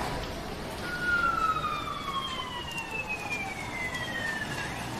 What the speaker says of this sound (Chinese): 刚才听到了警笛。